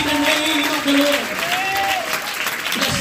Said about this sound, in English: Clap your hands to the Lord one more time.